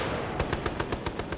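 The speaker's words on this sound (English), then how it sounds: "His 2 23mm cannon and 37mm gun delivered a mass of flame." Twin 23mm cannon and a 37mm gun on a MiG jet fighter fire in a rapid, evenly spaced burst of about eight sharp reports over a steady roar, loud and close.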